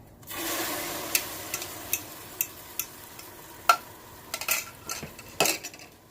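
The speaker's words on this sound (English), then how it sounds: "I'm going to dump in some beaten up eggs." In a Delonghi cooker holding potatoes, beaten eggs are poured in, then a utensil clinks and scrapes against the pan in a series of sharp taps over a faint sizzle, close and fairly quiet.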